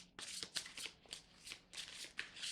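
Tarot cards shuffled by hand in a series of quick, crisp riffling bursts, close and steady, with no voice over them.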